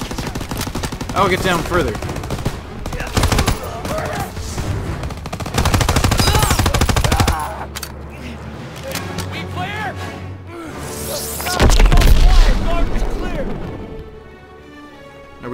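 Heavy gunfire from World War II weapons in the Call of Duty: WWII video game, with loud bursts of rapid shots and explosions in a street battle while voices call out over the shooting.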